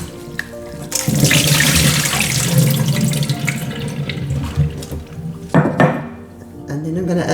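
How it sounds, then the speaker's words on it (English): Tap water runs steadily and fairly loud as an aloe leaf is rinsed beneath it, with a brief splash and clatter near the end and no talking. "I'm just going to give it a good rinse, just to get off the grass, the dirt or whatever is on there"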